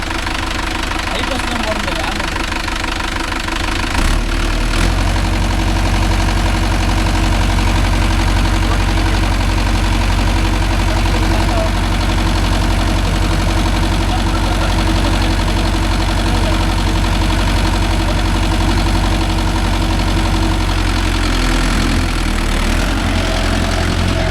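A Mahindra Yuvo Tech Plus 585 4WD tractor runs close by with a cultivator attached, its diesel engine chugging with a steady low rumble and a deeper shift a few seconds in, while people talk over it.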